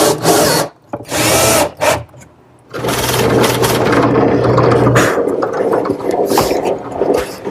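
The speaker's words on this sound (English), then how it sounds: "I'm using some plywood that was left over, and attach that with some screws" A power drill drives screws into a leftover plywood strip in short bursts, then a longer steady whir close by, with gaps of quiet between runs.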